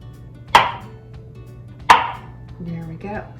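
A knife chops baby portobello mushrooms for a stir fry, giving two sharp, loud thuds on a cutting board about a second apart, followed by softer handling noises, with no talking.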